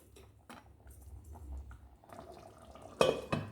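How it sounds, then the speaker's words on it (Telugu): A spoon scrapes and clinks against a pan while chicken curry masala with poppy seeds and coconut is stirred, ending in a couple of sharper metallic knocks. "గసగసాలు, కొబ్బరి, కలిసేటట్టు తిప్పుకోండి."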